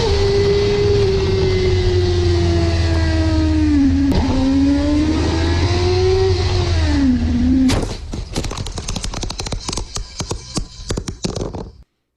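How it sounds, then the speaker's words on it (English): A motorbike at extreme speed, about 270 km/h, crashes into the back of a stationary truck: a loud sustained high engine whine wavers and drops, then cuts into a burst of scraping, clattering impacts that fade out. "That sound you hear is him rear-ending it and then his bike pirouetting."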